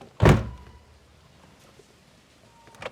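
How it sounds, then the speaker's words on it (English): A car door on a NB2 Mazda Miata thuds once against an oversized seat, a sharp close bump followed by quiet and a fainter knock near the end. "it's not it's not even letting me like close the door"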